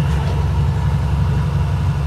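A heavy hauling truck's engine brake holding it back on a descent, a loud, steady low throbbing drone that stays constant throughout with no voices.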